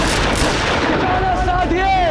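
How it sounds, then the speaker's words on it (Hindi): Gunfire and artillery in a Mughal-era battle drama, heard as dense, loud, continuous booming and crackling with whistling streaks, thick and close throughout. "तीर चला रहे हैं, अपनी बंदूकें संभालो और चलाओ गोलियां"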